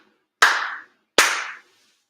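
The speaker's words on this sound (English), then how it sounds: "4 sincere claps along with the head officiant." Ceremonial hand claps ring out at a Shinto-style grand ceremony, two sharp, resonant claps spaced nearly a second apart, each trailing a short echo in an otherwise silent hall.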